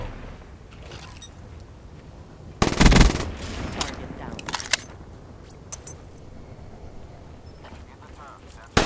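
Light machine gun fire in a first-person shooter, a sharp rapid burst of shots partway through, followed by scattered quieter gunfire and game noise, with someone talking over it.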